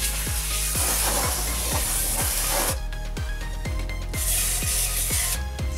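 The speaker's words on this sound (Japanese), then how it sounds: "滑りやすくするためのパーツクリーナーをスプレーし" Parts cleaner sprayed onto a scooter tire fitted on its wheel during a hand tire change, a broad spray hiss in two bursts over a steady mechanical hum and regular ticking knocks, close and with no talking.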